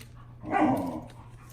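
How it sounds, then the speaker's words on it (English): A teething dog lets out a single short bark indoors, close and moderately loud over a low background hum. "Dog's teething, so if you hear a dog barking"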